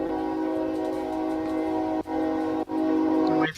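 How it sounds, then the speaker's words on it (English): A train horn blares loud and close in long sustained blasts, broken by two brief gaps before sounding again and then cutting off, with no talk over it. "afternoon train comes in."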